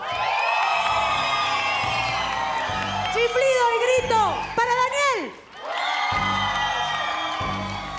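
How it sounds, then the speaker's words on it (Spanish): A lively TV studio audience cheers and whoops loudly, with shrill whistles cutting through mid-clip and voices shouting throughout. "Por favor, chiflido y grito."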